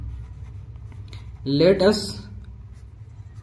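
Pen or marker scratching steadily on a surface while a mathematics proof that the square root of 3 is irrational is written out; a soft, continuous scraping sits under a brief burst of speech midway.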